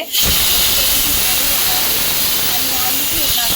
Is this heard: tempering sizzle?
yes